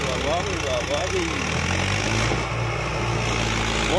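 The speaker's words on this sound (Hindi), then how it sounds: "अभी चलेगा ट्रैक्टर।" A Mahindra Arjun 605 tractor engine runs with a steady, heavy low drone, close and loud, while voices and chanting carry over it.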